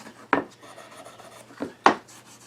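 Hand-buffing a wooden cherry spice box, a few short close rasping rubs against the wood separated by quiet gaps.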